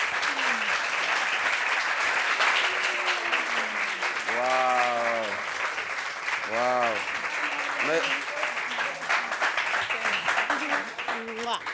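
Sustained audience applause for a performer, loud and continuous throughout, with a person exclaiming in wonder over it twice.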